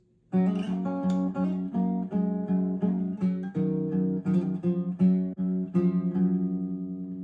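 Solo acoustic guitar plays a short melodic phrase, individual plucked notes rising and falling at a moderate pace, close and clear with no talking.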